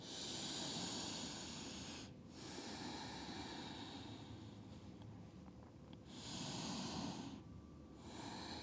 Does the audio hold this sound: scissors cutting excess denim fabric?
no